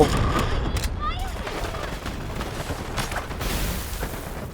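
Rapid bursts of gunfire crackle alongside heavy explosion booms in the video game Delta Force, loud and continuous throughout, with a sharp chirping effect early on.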